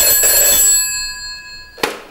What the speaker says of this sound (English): This is the phone we all know and love.